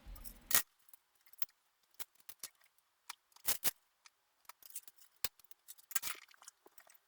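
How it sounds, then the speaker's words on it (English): Scissors snipping cable ties inside a PC case, a run of sharp, dry clicks and snaps at irregular intervals, close and fairly quiet, with brief pauses between cuts. "I also had to take the scissors because the cables were tied around with something in the back"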